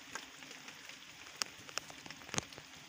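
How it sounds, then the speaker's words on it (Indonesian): Rain falls steadily on a surface during a prawn fishing outing, a quiet continuous patter broken by a few sharp, louder drops. The sound is fairly faint overall and no one speaks. "Ini udah turun hujan ini"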